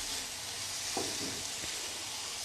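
Tomatoes and vegetables sizzling in a hot pan as they are stirred for pasta, a steady bright frying hiss with a couple of soft scraping stirs, close and without talking.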